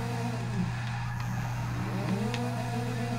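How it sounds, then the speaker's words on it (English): Tires spin and squeal in first gear on a 1979 Opel Kadett in Forza 6, a steady engine drone with a rising screech running continuously under the launch. "Spinning through first gear"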